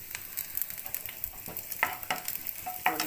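Onions fry in a pan for spicy mutton chops, giving a constant dense sizzle broken by occasional clinks and stirring scrapes.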